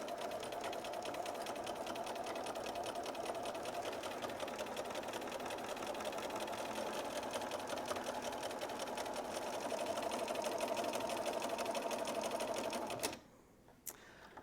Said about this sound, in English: once you've stitched all the way around your shape, take the piece out from under the machine and clip your threads